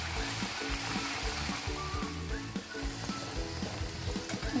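Spinach puris deep-frying in hot oil, giving a steady, dense, bubbling sizzle that stays close and even from start to finish with no voices.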